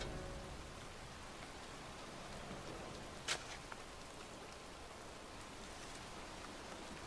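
Steady rainfall pattering continuously in the video game Heavy Rain, with one brief sharp tap partway through.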